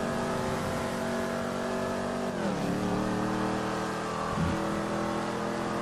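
A rear-wheel-drive car in the video game GTA 5 drones loudly and steadily with a strong engine tone, its pitch dipping once midway as it eases off, then climbing again. No talking.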